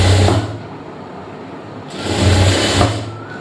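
A sewing machine stitches a blouse in two short motor bursts, with a whirring hum at the start and a longer run after a brief pause, close by and with no talking.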